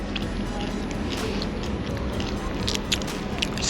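Close, loud crunching and chewing of a fresh, crunchy original-recipe pastry in Lisbon near Belem, set against a steady busy outdoor background.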